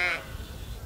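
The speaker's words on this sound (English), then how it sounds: "Stupid sheep." A sheep gives one short, sharp bleat up close, trailing off into a low outdoor rumble within a second, in a New Zealand short film.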